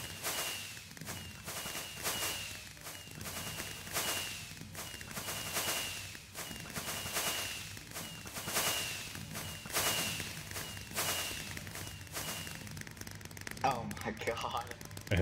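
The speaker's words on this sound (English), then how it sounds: "So many fireworks." Rapid bursts of fireworks in Minecraft crackle and pop in a dense, fast, steady stream like machine-gun fire, loud and continuous throughout, with a voice talking over them.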